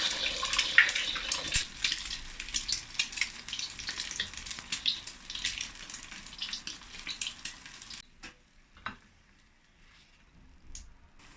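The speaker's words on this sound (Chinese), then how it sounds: "煎鸡蛋才不会粘锅，" Eggs fry in a pan greased with ginger, giving a bright continuous sizzle and crackle that stops abruptly near the end, leaving faint clinks in near silence.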